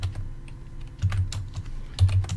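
Typing on a computer keyboard, close and clear, with quick bursts of soft key clicks in uneven clusters and short pauses between them.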